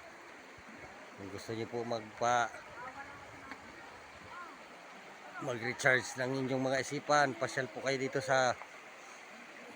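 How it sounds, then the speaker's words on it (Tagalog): Clear flowing stream water at Daraitan in Tanay, Rizal, a steady broadband rush heard throughout, with a voice talking over much of it. "Ayan ang batis, napakaganda, malinis."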